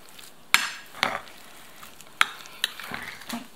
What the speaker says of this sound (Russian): Ложечкой перемешиваем.